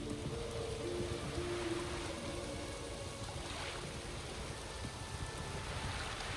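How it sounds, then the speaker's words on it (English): Heavy rain pours steadily in The Witcher 3, a dense, even wash of downpour that holds at the same level throughout, with no voices over it. "Raining fucking buckets."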